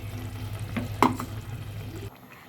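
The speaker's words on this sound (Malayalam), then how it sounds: "ഇനി നന്നായിട്ട് എല്ലാം കൂടി കൂട്ടി യോജിപ്പിക്കാം" A spoon scrapes and stirs through a pot of thick prawn theeyal curry with ground coconut paste over a low steady hum, with one sharper clink of utensil against metal midway.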